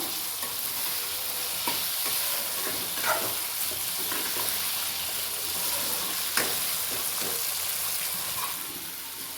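Turkey berries and other ingredients sauté in a pan for a Tirunelveli-style tamarind gravy, a continuous close sizzle and hiss with steady stirring scrapes and an occasional sharper knock throughout.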